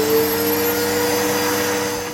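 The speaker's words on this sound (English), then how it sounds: "I'm hoovering my sofa because it's covered in cat hairs" Vacuum cleaner hoovering cat hair off a sofa, a loud steady whining roar held for the whole stretch and easing slightly at the end, with no talk over it.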